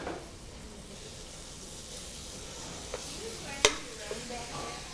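Two pounds of locally ground beef hitting a hot pan in a restaurant kitchen, a soft steady sizzle and hiss with a few sharp clinks of a utensil against the pan, quiet and close.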